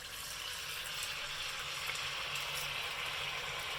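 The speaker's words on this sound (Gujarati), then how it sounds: "તો ગેસ પર તેલ ગરમ કરવા મૂકી દીધું છે મેં. તો હવે આ રીતે એને તળી લઈશું." Dhekra, a Gujarati winter snack, deep frying in a pan of hot oil on a gas stove, giving a steady, dense sizzle and bubbling crackle that holds evenly throughout at close range with no talking.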